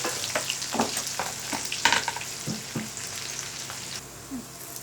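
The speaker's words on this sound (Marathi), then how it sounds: "आता मी लसण टाकते" Crushed garlic goes into hot oil in which cumin seeds have already crackled, as tempering for a traditional safflower-leaf vegetable dish. It makes a loud, steady sizzle with frequent sharp spits and pops, and a utensil stirs through it.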